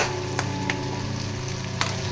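Boiled potatoes fry in a pan on a gas stove, giving a steady, close, loud sizzle with a few sharper crackles and stirring scrapes.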